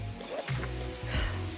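Creek water and a nearby waterfall rush steadily beneath a footbridge on a wooded trail, a continuous close wash of flowing water with no talk.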